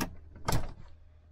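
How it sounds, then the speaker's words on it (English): A door shutting on a Chausson Allego 83 motorhome, heard as one short solid thud after a faint brief knock, followed by a quiet interior. "Shut the door."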